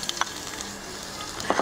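Garlic sizzles in hot oil in a wok while dry chana is being cooked, giving a steady close crackle and hiss with a few brief louder spits and pops.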